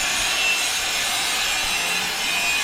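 A hand tool being sharpened by rubbing at a building construction site makes a continuous, close scraping rasp that stays steady and rhythmic throughout with no voices.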